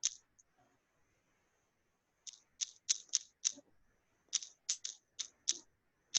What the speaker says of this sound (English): Who is that typing?